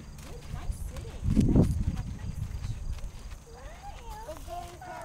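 A horse wearing horseshoes walking at a children's pony ride, steady clip-clop hooves under people talking close by, with a louder thud of activity early on.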